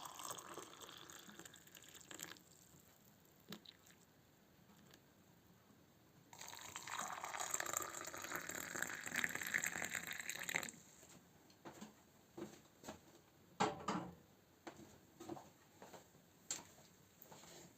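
Hot water, heated on a gas stove, poured to brew chamomile and other drinks, giving a steady, moderately loud rushing pour of about four seconds, with quiet clinks and handling noises before and after and no talk.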